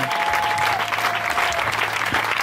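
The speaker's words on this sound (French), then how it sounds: "Acclame pour ton miracle ce matin" A church congregation applauding, a dense, steady wash of clapping from many hands that continues without a break.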